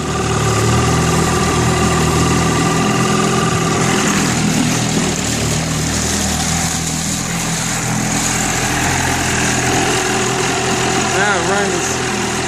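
A small engine runs fast after its idle is adjusted, giving a loud, steady drone that shifts in pitch partway through and then holds a high, even speed.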